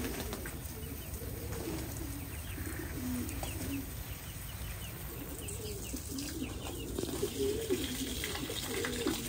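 Pigeons cooing repeatedly while bathing in water, soft rolling coos recurring throughout over a steady background hiss of spraying or splashing water, close by.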